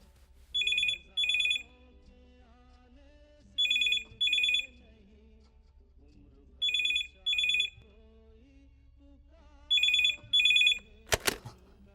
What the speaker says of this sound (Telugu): నిషా, నిషా, ఫోన్ కట్ చేయకు ప్లీజ్.